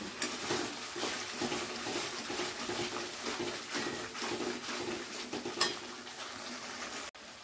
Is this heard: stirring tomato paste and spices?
yes